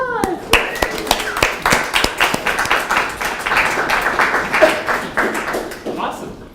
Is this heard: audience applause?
yes